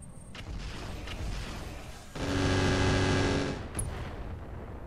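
In a RogueTech BattleTech battle, mortar fire lands with a sustained rumbling explosion that swells after a couple of seconds, holds loudly, then fades. A sharp crack follows near the end, over a low background of combat noise.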